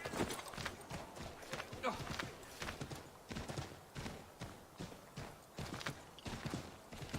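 Horse hooves clip-clop steadily in an Assassin's Creed video game, a fast rhythmic gait of close, crisp hoofbeats with game ambience and a voice talking over them.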